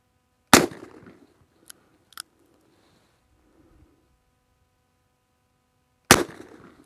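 A 2021 Colt Anaconda revolver fires on an outdoor range at 10 yards: two loud, sharp reports several seconds apart, each with a short ringing decay, with small clicks of handling between them.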